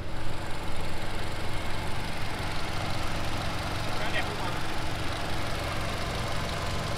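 A 2020 Toyota Camry 2.5Q with a 2.5-litre engine and about 1,400 km on it idles with a steady, even hum that stays constant at moderate level for several seconds.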